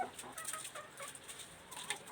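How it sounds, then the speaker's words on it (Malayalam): Faint chickens cluck softly in a few short calls, distant and quiet against a low background. "കോഴികളിങ്ങനെ ഉഷാറായിട്ട് സന്തോഷത്തോടെ കോഴികൾ നിൽക്കുന്നത് കാണുമ്പോൾ"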